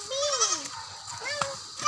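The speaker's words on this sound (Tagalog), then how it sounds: "Kambing yan." A baby goat bleats twice in quick succession, high and wavering, close by, while children and adults chatter around it.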